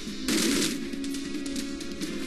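Rapid automatic gunfire in The Godfather video game, a sustained burst of close, loud shots that starts abruptly and continues steadily to the end.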